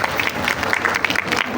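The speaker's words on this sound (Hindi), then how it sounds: "थैंक यू सो मच, तालियां।" Applause fills a classroom during a coding lesson, a dense, steady patter of many hands clapping at close range, with a faint murmur of voices underneath.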